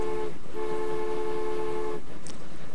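A train in Transport Fever sounds a sustained tonal horn blast over a steady rolling rumble, followed by a brief higher squeal.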